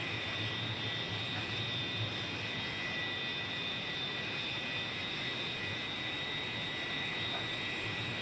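A Su-27 fighter jet engine, throttled to setting 75 in flight, roars steadily and loudly, with a constant high whine over broad rumbling noise and no pauses.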